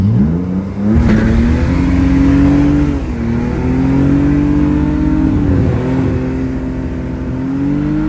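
A BMW engine roars at high revs during a tire burnout, holding a loud, sustained drone that dips and climbs several times, close and continuous with no talking.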